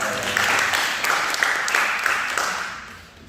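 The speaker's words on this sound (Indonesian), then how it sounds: "Tepuk tangan yang kuat lagi buat Tuhan" Church congregation applauding together after a sermon call, a steady broadband wash of clapping at moderate distance that fades toward the end.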